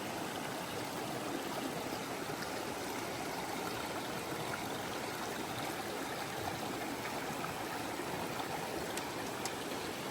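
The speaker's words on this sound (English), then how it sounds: "This is the Sawyer, a branch of the Sawyer River." A branch of the Sawyer River flows steadily on a hiking trail, a constant broadband rush of running stream water, close and even throughout with no talking.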